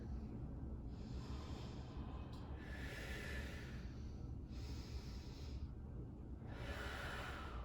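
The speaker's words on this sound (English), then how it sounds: "We take 3 more full breaths right here" Slow, deep breaths during a yoga pose, each long hissing inhale and exhale coming in even cycles of about two seconds, faint and close over a low steady background hum.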